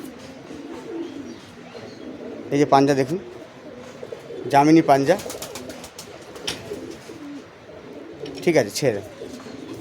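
Low cooing from Giribaz and Teddy pigeons hums along underneath as someone speaks close up in several loud bursts.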